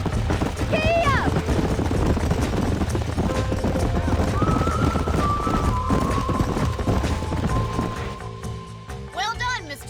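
Horses clip-clop at a gallop with an occasional whinny in the Western game Red Dead Redemption, hooves steady throughout amid background game sounds while voices talk over them.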